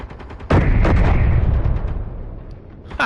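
Heavy gunfire in a video game as drones attack: a loud, deep boom with a rumbling tail, a couple of smaller cracks around it, and another sharp shot at the very end.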